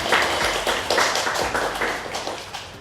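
Small group clapping in a podcast studio, a few hands patting in loose, uneven bursts close to the mic for a couple of seconds.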